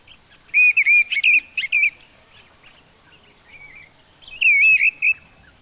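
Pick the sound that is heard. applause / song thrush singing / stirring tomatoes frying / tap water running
song thrush singing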